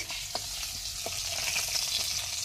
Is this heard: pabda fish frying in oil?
yes